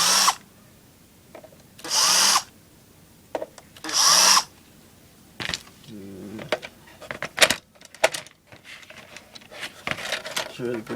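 Power drill backing screws out of a credit card machine: three short, loud, close bursts of high whirring with pauses between, followed by plastic clicks, rattling and handling noises as the casing is worked on, with talking over parts.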